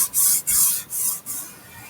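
Paper is rubbed by hand over a painted paper mitten, making four quick, close, raspy swishes in a row.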